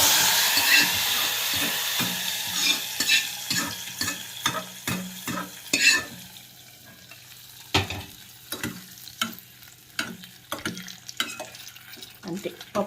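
Asafoetida tempering sizzling as it is poured into dal with tamarind leaves, a steady frying hiss with clinks and stirring scrapes of a spoon against the pot, close and fairly loud, no voices.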